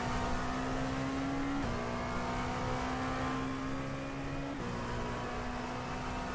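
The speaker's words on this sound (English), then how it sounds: "Now you guys have audio as well for the cars." Race car engines in a 12 Hours of Daytona endurance racing game, a steady droning whine of cars at speed with brief pitch shifts as gears change, moderately loud and continuous with no talking.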